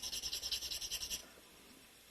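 A wooden shape being sanded by hand: about a dozen quick, even rasping strokes in a steady rhythm for just over a second, close but quiet, then near silence.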